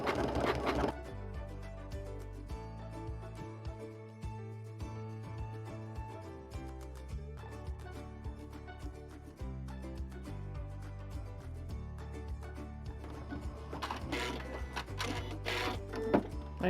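A sewing machine stitches a corded buttonhole, humming steadily and fairly quietly at close range, with its tone shifting as the stitch pattern changes and no talking.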